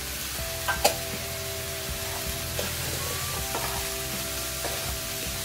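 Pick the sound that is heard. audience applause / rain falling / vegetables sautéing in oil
vegetables sautéing in oil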